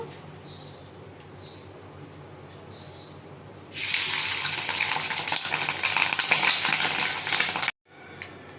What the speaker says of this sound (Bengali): আমি মাছের ডিমটা ভেজে নেব।